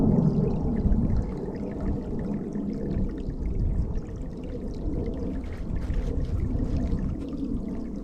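Water rushing steadily at a large creek crossing in backcountry hunting terrain, a continuous broadband wash that stays close and fairly loud, a bit stronger in the first second, with no voices.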